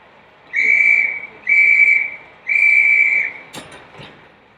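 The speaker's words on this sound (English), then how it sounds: "The 3 whistles indicating end of exercise." Three long, loud whistle blasts at a firefighter pass-out parade mark the end of a drill exercise, evenly spaced and steady-pitched, followed by a couple of brief clatters.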